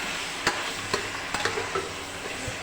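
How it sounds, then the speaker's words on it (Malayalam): Chilli stirred in hot oil in a pan for a mutton curry: a soft continuous sizzle broken by a few sharp scraping knocks of the spoon against the pan, close and without voices. "ആ എണ്ണയിലിട്ടൊന്ന് നമുക്ക് നല്ലതുപോലെ കുറച്ച് സമയം ഇളക്കി കൊടുക്കാം."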